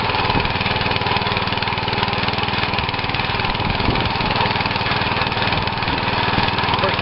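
Rys MBR-7-10 motor cultivator engine running steadily, a loud, continuous mid-pitched drone with a slight knocking pulse, close by and unbroken throughout.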